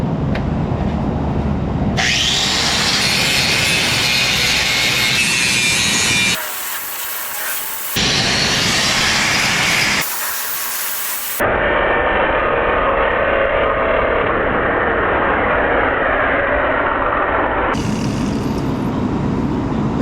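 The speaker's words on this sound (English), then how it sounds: "but it's a Bosch angle grinder." Battery-powered Bosch angle grinder cutting through the exhaust pipe of a Nissan Versa, a loud harsh screeching whine in long bursts broken by two short pauses, with the tone shifting as the disc bites.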